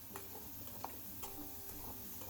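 Bitter gourd and potato fry in ghee with a soft, quiet sizzle, joined by a few faint clicks of stirring.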